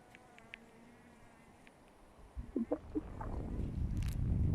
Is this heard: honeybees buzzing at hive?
yes